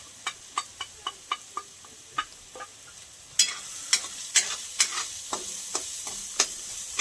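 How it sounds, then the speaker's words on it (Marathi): Stuffed eggplant fries with turmeric and asafoetida in a pan over low heat, with a steady sizzle under repeated sharp clinks of a spoon stirring, close and moderately loud. "आणि मंद आचेवर थोडा वेळ परतू देऊया याला."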